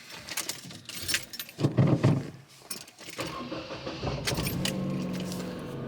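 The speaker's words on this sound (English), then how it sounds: "I'll just start up the car" A Ford Fiesta Mk6 parked against a wall, with keys jangling first, then the starter cranks and the engine catches and settles into a steady idle, close and fairly loud.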